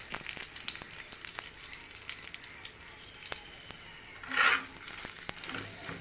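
Dry red chillies fry in hot oil with garlic and onions for coconut chutney, a steady close sizzle with faint stirring and a louder crackling burst near the end.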